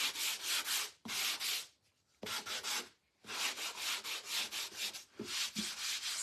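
Sandpaper rubbing along the raised edges of a painted wooden bathroom sign with a faux frame, in several close back-and-forth strokes separated by short pauses, with no voices.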